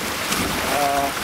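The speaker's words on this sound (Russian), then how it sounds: "Чувствуешь, ветер поднимается." Wind rises outdoors in the woods, a steady broadband rush buffeting the microphone, close and fairly loud, with a faint tonal hum appearing briefly.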